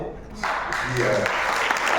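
Applause from an audience after a dance performance at the French Institute in Meknes, a steady wash of clapping that swells after a quieter start and holds at moderate level.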